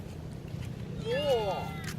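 A thin, short kitten meow rising and falling once, heard faintly under a low background hum at a seaside resort in the Philippines.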